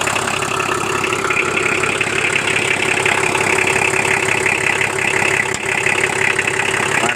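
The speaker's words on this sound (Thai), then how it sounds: "เปลี่ยนเป็นเครื่องนิสสันนะครับ เครื่องนิสสัน" A Nissan car engine runs steadily up close, giving off a loud, even mechanical hum and rattle with no speech.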